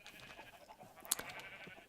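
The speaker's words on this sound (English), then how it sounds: "Up on the other side here we have the the sheep." A sheep in the Minecraft video game gives a faint, brief bleat over quiet background game sound, with no talking.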